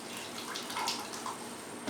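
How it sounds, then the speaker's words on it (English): Water splashing and trickling down into a bucket of dirty water as a cleaning sponge is squeezed out during bathroom cleaning, a steady close-up gurgle with small splashy bursts, no talking. "So wring it out in here."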